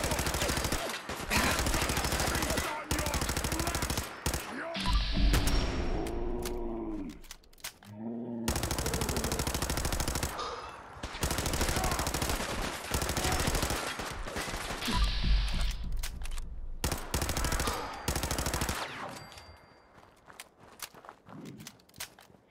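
A .38 gun firing at super mutants in Fallout 4 VR, with dense bursts of rapid shots separated by brief pauses, alongside growls and footsteps, and the shooting thinning out toward the end.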